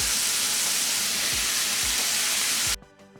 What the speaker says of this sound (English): Saute the cabbage along with the onions for again less than a minute.